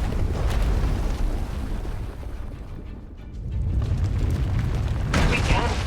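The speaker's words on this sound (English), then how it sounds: "When it erupts, the entire asylum will be destroyed." A raging Force power eruption tears through an asylum in SWTOR, a continuous loud rumbling roar with deep booming bass that dips briefly and then surges back up.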